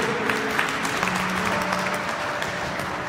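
Mourners at a London funeral gathering for Albert Mukendi, with members of the Congolese diaspora, applaud steadily, a close, continuous wash of clapping with faint voices beneath.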